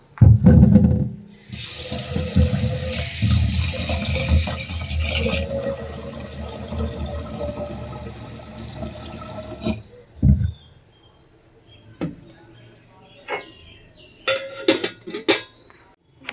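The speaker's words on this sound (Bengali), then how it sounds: "এই যে চালটা ভিজিয়ে রাখছি এখন একটু" Tap water runs steadily into a bowl of rice set to soak in a home kitchen, a loud continuous gush for about ten seconds before it stops, followed by scattered clinks and knocks of the bowl.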